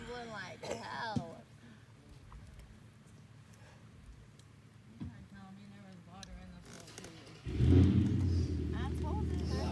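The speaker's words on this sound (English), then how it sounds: "Loud ass car." A loud car engine rumbles close by near a house at night, a heavy low drone swelling in the last two seconds, with people talking and calling out over it throughout.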